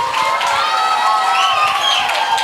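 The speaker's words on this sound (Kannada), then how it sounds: "ಇದಕ್ಕೊಂದು ಚಪ್ಪಾಳೆ ಪಾಪ" A live comedy show audience breaks into cheering, whoops and shrill whistles mixed with clapping, a dense, loud crowd roar that holds steady for a couple of seconds.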